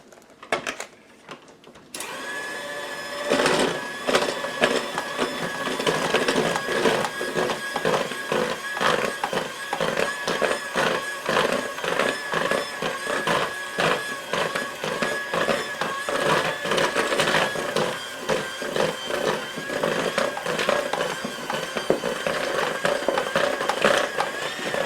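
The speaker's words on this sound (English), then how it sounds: "forgive me while I turn my mixer on and get this all nicely" An electric mixer blends matzo cake batter for a Passover recipe, starting after a brief quiet moment and then running as a steady, loud, whirring drone with rattling texture throughout, with no talk.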